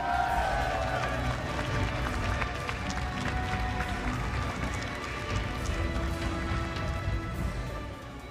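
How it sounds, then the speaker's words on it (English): A crowd applauds a player's placing at a Dragon Ball Super Card Game championship, a continuous rattling clatter of many hands with a voice briefly audible over it, fading slightly near the end. "a big round of applause for Shanks."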